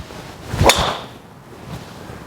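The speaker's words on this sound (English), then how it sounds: "it's a true titanium sound that we've sort of always been used to in the past" A single sharp metallic crack of a titanium Srixon ZX5/ZX7 MKII golf driver striking a ball, loud and close, ringing briefly before fading into quiet outdoor background.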